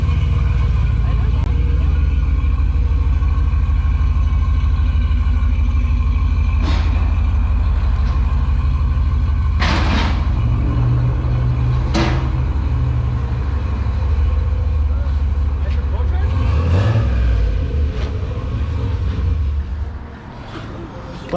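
Engine of a turbocharged Chevrolet Silverado pickup truck droning steadily while driving in the rain, a loud continuous low rumble inside the cab, with people talking over it and a few sharp bumps before the engine sound drops away near the end.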